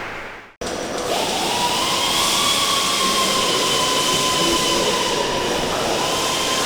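Harrier jet aircraft passing overhead at a Royal Navy Fleet Air Arm site, a loud sustained roar that swells in abruptly after a brief quiet start and holds steady with a faint rising whine, no voices.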